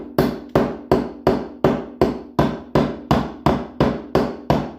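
A cheap hammer strikes a Holley carburetor in a steady series of twelve hard, evenly spaced metallic blows, close and loud with no talking.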